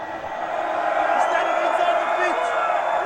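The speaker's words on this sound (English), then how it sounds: "Crowd getting involved here" A rugby crowd at a Seattle versus Glendale Raptors match roars in a steady, loud wash of cheering and whoops, with commentary talk running over it throughout.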